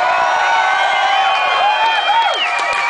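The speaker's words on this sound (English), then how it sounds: "Give yourselves a round of applause." A concert crowd of around 800 at the 229 Club in London cheering and whooping loudly, with high shouts and screams layered over scattered clapping.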